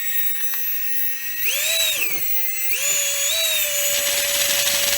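A small electric ducted fan in a minimal RC Lockheed P-80 Shooting Star model jet revs up to full throttle, a loud, close, high-pitched whine that rises, dips briefly, then climbs again and holds steady.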